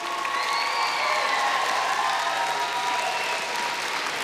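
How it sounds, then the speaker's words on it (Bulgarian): Strong audience applause for a contestant on a televised singing competition, dense continuous clapping with some cheering, while a faint musical tone lingers underneath. "Вашите силни аплодисменти за Стела!"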